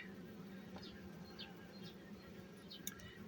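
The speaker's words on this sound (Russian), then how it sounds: "Орава трутней. Сразу орава трутней." Dense, steady buzzing of many honeybee drones fills the space at a low, even level, like an active hive heard close up.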